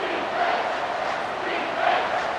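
A stadium crowd in the College Football 25 game roars in a broad, sustained wash of distant cheering and shouting that swells slightly in places, with no clear speech.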